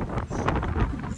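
Gusty wind buffets the microphone, a rough, blustery rumble that swells and dips over a second.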